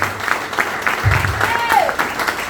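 A church congregation applauds loudly at a preacher's call during a sermon, with the clapping mixed under a voice speaking over it.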